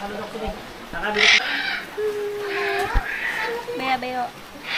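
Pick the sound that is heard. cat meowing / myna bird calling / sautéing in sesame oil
myna bird calling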